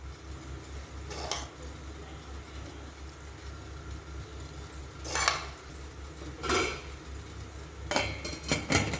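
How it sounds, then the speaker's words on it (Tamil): A metal lid is set down on an idli steamer while rava masala idli cook, giving a few sharp clanks and clinks spaced several seconds apart over a steady low kitchen hum. "இப்போ மூடி வச்சுட்டேன்."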